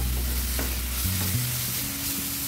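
Finely chopped onion frying in a pan after browning, giving a steady close sizzle with stirring throughout and a low droning tone beneath, no voices.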